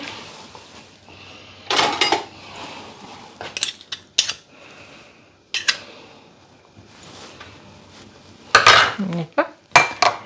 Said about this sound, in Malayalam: എന്നിട്ട് നമുക്കിത് നന്നായിട്ടൊന്ന് ഇളക്കാം